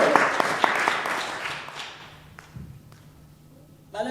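A church congregation claps, with a burst of quick handclaps that thins out over a few seconds into a quieter room, and a few scattered taps follow.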